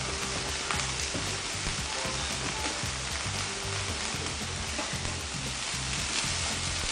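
Onions with chopped rosemary and thyme sizzle steadily in a hot pan for burger patties, a continuous loud crackling fry with faint stirring rattles.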